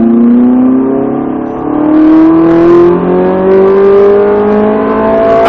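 A Ferrari 458 accelerates hard on a race track, its engine note climbing steadily through one long, loud pull with no gear change, close and dominant throughout.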